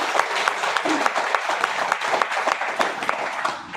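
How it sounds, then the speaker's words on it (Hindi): An audience at an RCM business seminar in Faridabad claps together in dense, sustained applause with a brisk, even texture, filling the whole clip before tapering slightly at the end. "एक बार आदरणीय टीसी सर के लिए जोरदार ताली होना चाहिए।"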